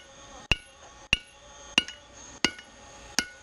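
A hammer strikes metal on an anvil five times at a steady, evenly spaced rhythm, each blow a sharp, ringing clank close by, in a blacksmithing session working metal with red-hot tongs.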